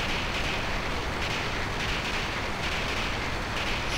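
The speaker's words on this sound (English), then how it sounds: "Stop the train!" A train in Final Fantasy VIII rumbles on in a dense, steady clatter that stays loud and unbroken from start to finish, with no voices over it.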